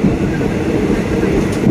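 A passenger train runs on the Ratchaburi line in Thailand, heard from inside as a continuous low, rumbling roll of the carriage. The noise is steady and close, and there is no clear speech.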